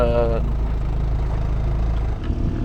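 Canal narrowboat engine on the River Lea in London, fouled with weed, chugs as a steady loud low rumble, with a short tonal whine at the start and a slight dip in pitch near the end.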